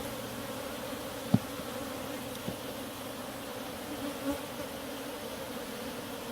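African honeybees (Apis scutellata) hum steadily around an open hive during a beekeeping session in Nairobi, a continuous low buzz throughout with a couple of faint sharp clicks and no talk.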